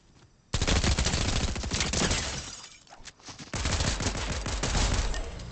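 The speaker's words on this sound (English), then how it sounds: "Stop shooting at people." Loud, sustained bursts of rapid gunfire in a Fortnite zero build match, heavy overlapping shots with brief dips between volleys, close and dominating without speech.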